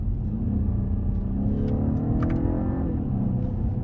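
A BMW 530e plug-in hybrid sedan pulls hard under acceleration as paddle shifts are made, a steady engine rumble with rising and falling tone and brief shift breaks, heard from inside the cabin.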